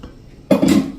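Wheat flour khichu being stirred with groundnut oil in a cooking pan: a short, close scraping and clattering burst of about half a second after a quiet start, with no talking.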